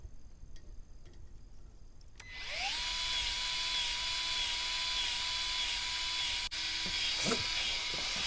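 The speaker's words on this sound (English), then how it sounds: "I'm gonna go ahead and pump it full of grease." A grease gun pumps grease into an equipment trailer. A few sharp ticks come first, then a motorized whine rises quickly and holds steady and fairly loud, with a brief dropout and a faint clunk near the end.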